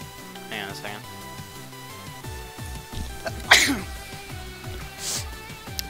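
A single sharp sneeze bursts out over steady background music, loud and close.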